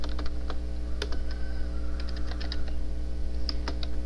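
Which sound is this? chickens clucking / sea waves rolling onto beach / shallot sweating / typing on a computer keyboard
typing on a computer keyboard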